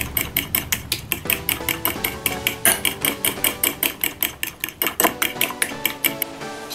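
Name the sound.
stirring zucchini and chicken with garlic in a bowl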